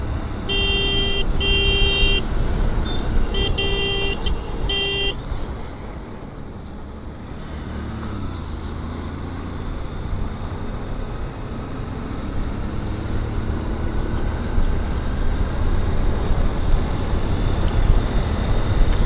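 Motorbike ride across the Vashi bridge amid steady traffic: a constant road roar and wind, with several sharp vehicle horn blasts in the first few seconds, then continuous rumbling traffic noise for the rest.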